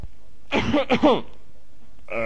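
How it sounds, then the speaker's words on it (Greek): A man coughs on request during a doctor's check-up, giving a couple of short throaty coughs in quick succession close to the microphone, followed by a brief voiced sound. "νομίζω ότι βήχετε πάρα πολύ"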